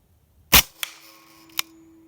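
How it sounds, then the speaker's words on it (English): A single sharp crack of a Hatsan Blitz .30 caliber PCP air rifle firing predator pellets at a six-ply target outdoors, loud and close, followed by a faint distant impact and a short metallic click as the shot rings away. "I'm going to shoot for that bottom one."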